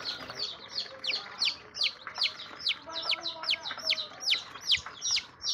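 Baby chickens chirp during an eye-drop vaccination, giving a rapid series of high, clear peeps roughly twice a second, close and fairly loud over a quiet background.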